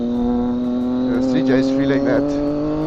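A beginner motorcycle engine holds a steady, loud, buzzing drone with a slight rise in pitch, while someone talks over it close by.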